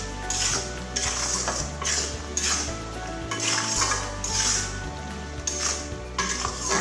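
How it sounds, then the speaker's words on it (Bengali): Raw mango pickle with salt, chilli powder and black cumin being stirred in a pan, giving a steady scraping and sizzling with rhythmic swells of utensil contact against the metal, close and continuous with no speech. "দিয়ে এরকম ভালো করে নাড়াচাড়া করে দিতে হবে।"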